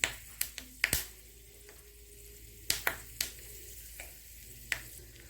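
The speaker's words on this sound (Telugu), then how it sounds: "ఆయిల్ కొంచెం వేడెక్కుతూ ఉంది ఇప్పుడు మనం తాలింపు దినుసులు ఆవాలు జీలకర్ర ఎండుమిరపకాయలు" Tempering of garlic, mustard seeds, cumin and dried red chillies in hot oil, a quiet sizzle broken by several sharp pops and crackles at irregular intervals, close and alone.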